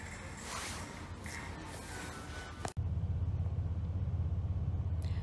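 Low rumble inside a moving car, a steady engine and road drone that cuts briefly with a thump midway and then resumes heavier and more even.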